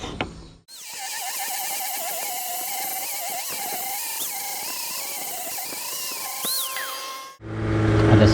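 An angle grinder cuts into a ketinting longtail boat propeller in a loud, sustained metallic whine with wavering pitch that holds for about seven seconds, cut off abruptly at both ends, with no talking.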